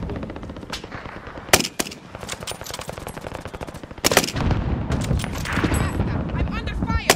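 Rapid machine-gun bursts and scattered shots ring out in a war video game, with sharp loud reports at intervals over a steady crackle of gunfire and a speaking voice.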